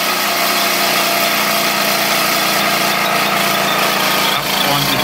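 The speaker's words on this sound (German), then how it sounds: "jetzt wollte ich die Maschine doch eigentlich nochmal so mit richtig Kraft laufen lassen hier. Auch ein bisschen Drehzahl." A 1980s Wilesco D20 toy steam engine runs at full power and high speed, giving a dense, steady hissing and whirring rattle that stays constant and close throughout.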